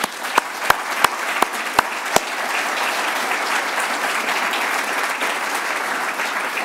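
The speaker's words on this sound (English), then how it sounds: "I would like to offer a round of applause" An audience breaks into a round of applause after a talk on climate vulnerability, a few sharp nearby claps at first, then dense, even clapping sustained to the end.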